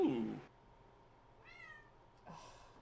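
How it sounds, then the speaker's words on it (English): A house cat gives a few plaintive meows, one wavering cry in the middle and another at the end, quiet and slightly distant, following a burst of voice at the start. "The forbidden cat."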